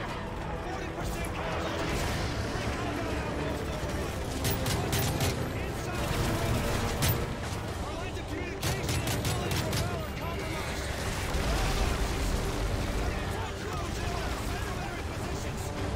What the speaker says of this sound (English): Just got in the game and already start shooting.